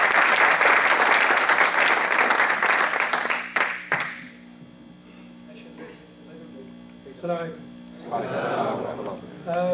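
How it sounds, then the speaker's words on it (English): Applause from the audience at a Saudi club celebration in Wichita, Kansas, loud and dense for about four seconds before stopping abruptly, then a low mains hum with someone speaking close to the microphone. "Let us give some applause."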